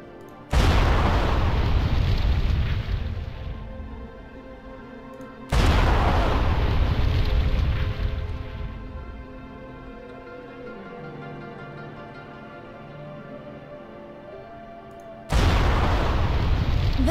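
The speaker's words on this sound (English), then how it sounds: "Just to be safe, Kirin planted some explosive barrels for me to shoot." Explosive barrels shot and blowing up in World of Warcraft during a raid on a Jinyu village: three loud booming blasts spaced several seconds apart, each a sharp burst followed by a long rumbling decay.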